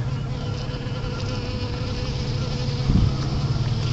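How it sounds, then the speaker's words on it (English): Honey bees buzzing on a warm February day in Ohio, a continuous close, low hum that swells briefly near the end, with no voices. "Bees are cleaning it up."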